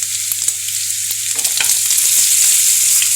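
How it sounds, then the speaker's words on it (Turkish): Small meatballs sear loudly in a wide frying pan, a dense, bright continuous sizzle close up, with soft knocks as they are turned over. "Şöyle çevire çevire altını üstünü güzelce bir mühürleyip ondan sonra alacağım arkadaşlar."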